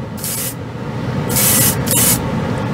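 A Harder & Steenbeck Colani airbrush sprays Vallejo acrylic paint in three short hissing bursts, close and fairly loud over a low room rumble.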